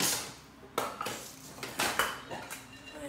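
Metal clatter and clinks from handling a used, double-bottomed Japanese pressure cooker pot, several sharp knocks spaced irregularly, close and fairly quiet with no talk.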